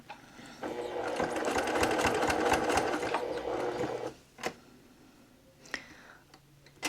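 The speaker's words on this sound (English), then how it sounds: "we're going to stitch over forward and then back stitch all the way back over it and then front stitch again" A sewing machine stitches forward and back over the strap of a boxy makeup bag, with a steady, close whirring run of about four seconds. A few separate short clicks and bursts follow in a quieter stretch.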